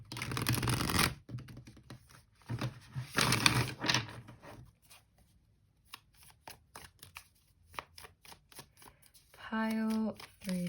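A tarot card deck shuffled by hand in quick riffling bursts near the start, then sparse soft card taps and rustles, ending with a brief tonal sound.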